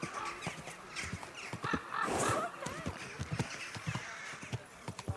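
A horse's hooves clop steadily in the medieval video game Kingdom Come: Deliverance II, a fast rhythmic gallop of sharp hoof strikes over faint ambient game sound.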